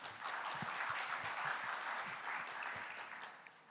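A conference audience at the World Bio Summit 2025 in Seoul claps to welcome a session speaker, a dense, even round of applause that fades slightly toward the end, with no talking.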